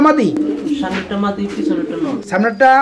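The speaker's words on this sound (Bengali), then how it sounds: "এটা সিরাজি কবুতর ব্ল্যাক কালার বড় সাইজের সিরাজি কবুতর" Large black Siraji pigeons of the Lahori type coo in low, rolling bursts close by, mixed with people talking nearby.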